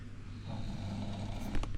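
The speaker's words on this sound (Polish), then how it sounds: "Ciekawe, czy słyszycie jak chrapie." A man snoring while asleep in a shared hostel room, a single slow, raspy rattling breath that rises and then snorts, heard faintly over steady low room hum, with no talking.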